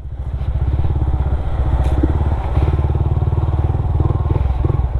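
A motorcycle engine runs loud and close on a narrow, dangerous mountain road between San Nicolas, Pangasinan and Itogon, Benguet, with a steady rapid putter and occasional clatter and thumps from the road.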